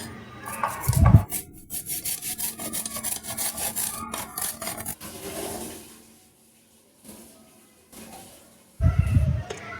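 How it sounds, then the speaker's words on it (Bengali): A knife finely chops peeled mankochu (giant taro) on a board with quick, rhythmic scraping cuts for several seconds. The chopping stops briefly near the end, then two heavier thumps follow close up. "প্রথমে মানকুচ ভালো করে ছিলে পরিষ্কার করে নিব তারপর এভাবে চিকন করে কুচাবেন"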